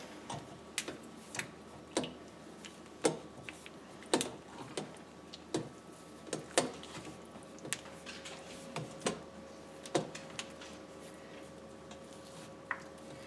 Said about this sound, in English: we're just going to mix that all up again